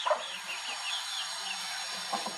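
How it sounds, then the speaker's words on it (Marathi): Desi hens and a rooster on a small Konkan poultry farm give soft, faint clucks and short throaty calls against a steady hiss of background noise, with no voices. "खूप चांगली कोंबडी आहे मित्रांनो."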